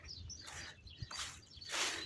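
Sparrows chirp in a spring garden, a few short, bright calls at moderate distance, fairly faint and with no talk over them.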